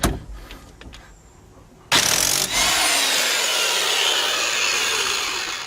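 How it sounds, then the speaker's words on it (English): An impact wrench hammers loose the 17mm bolt on a car's steering hub adapter, bursting in suddenly after a few quiet handling sounds and then roaring loud and steady at close range for several seconds. "I have my impact wrench"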